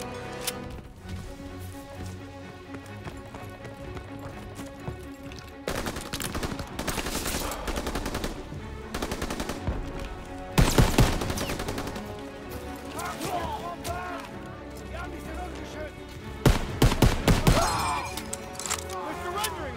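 Bursts of rifle and machine-gun fire in the World War II shooter Call of Duty WW2, with heavy volleys that swell and fade, sharp loud clusters near the middle and end, and shouted voices over the battle.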